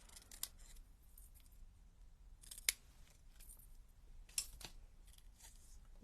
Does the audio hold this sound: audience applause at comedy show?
no